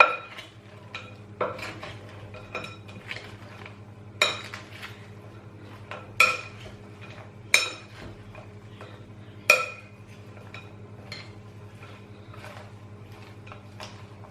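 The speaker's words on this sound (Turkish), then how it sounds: "Bunları iyice karıştıracağız." Utensils clink against a bowl while fried potato salad is stirred, sharp metallic taps repeating every second or two over a faint steady hum, with no talking.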